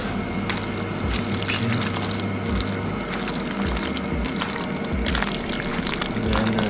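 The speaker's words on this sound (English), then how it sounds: "so now the cheddar is all melted, so I'm going to add my pasta" Cooked pasta tipped into a melted cheddar cheese mixture for Thanksgiving macaroni and cheese, giving a steady wet pouring and sloshing sound with soft clatters, close and continuous with no talk.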